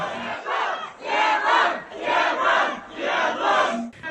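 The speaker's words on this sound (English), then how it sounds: "videos posted to social media show crowds shouting, "Remove the lockdown."" Crowd in Urumqi chanting a protest slogan in rhythmic shouted bursts, about four loud repeated chants evenly spaced with brief gaps, many voices together.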